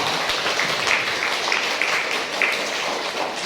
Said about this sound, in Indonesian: tepuk tangan untuk penyaji kita yang pertama